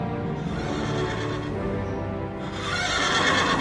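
A horse gives a long, loud whinny close by, with hooves clip-clopping underneath, one continuous burst lasting a few seconds.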